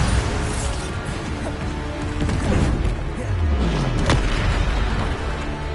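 A Bombarda spell in Hogwarts Legacy goes off as a loud booming crash, with dense rumbling debris and a descending whoosh, followed by a second burst a moment later.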